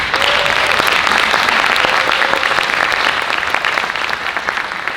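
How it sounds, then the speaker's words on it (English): An audience at a school spring band showcase applauds an outgoing parent-group president, with dense, steady clapping that holds loud through the whole stretch and a faint voice briefly audible beneath it. "If we could give them a round of applause."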